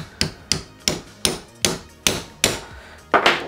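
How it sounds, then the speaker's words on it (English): Metal piece on a Stormtrooper costume ammo belt struck with a hammer, eight sharp ringing blows at a steady, fairly quick rhythm, loud and close, with no talking. "I'm just going to use this piece of metal because I don't want to smash this with my hammer"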